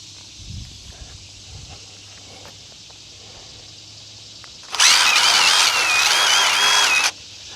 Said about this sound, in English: So I'll have to drill this one out